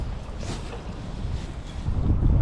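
Gusty wind buffets the microphone on open water with whitecaps while fishing from a boat, a loud rumbling roar that swells and thickens toward the end, with no talking.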